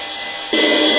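A robot paraconical pendulum pops its latch and retracts the pusher: a steady mechanical whir that jumps to a louder, brighter motor hum halfway through.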